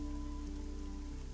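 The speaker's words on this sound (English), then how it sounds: "I find the sound of rain soothing." Steady rain patters continuously on surfaces in the video game Fall of Porcupine, a dense even wash with a low hum underneath and no voices.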